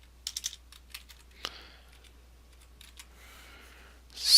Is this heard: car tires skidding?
no